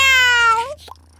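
A cat gives one loud, close, drawn-out meow that falls in pitch at the end, followed by a faint short sound.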